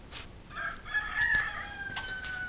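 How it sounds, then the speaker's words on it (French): A rooster crows in a neighbour's vegetable garden, one drawn-out cock-a-doodle-doo heard from a short distance over faint background noise. "ainsi que son coq que vous entendez chanter"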